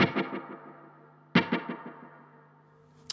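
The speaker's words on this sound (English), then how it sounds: "And then once you get to 5, you're introducing reverb now as well" Two plucked or struck tonal notes, each trailing a descending string of delay repeats washed in reverb tails, run through an IK Multimedia T-RackS Space Delay; the second note arrives about midway and decays alone, with a brief transient at the end.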